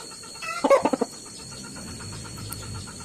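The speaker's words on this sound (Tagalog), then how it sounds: "Manok ko naman to." A chicken gives a quick burst of several loud clucks close by, then quiets, leaving low background noise.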